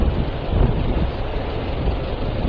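Gusty wind roars steadily into the microphone near Causeway Bay, a dense low rumble with no clear voices over it.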